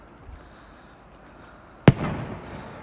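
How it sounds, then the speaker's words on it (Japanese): Fireworks in a winter night sky over Nagano, Japan: a single sharp, loud explosive bang follows a quiet stretch, then a rumbling, crackling tail fades slowly into the distance. "花火になります。"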